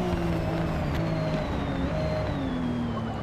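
A widebody Supra race car with a six-cylinder engine of over 1100 horsepower in a racing game, revving steadily and pulling hard down a straight, its rising engine tones loud and close and sustained, no talking.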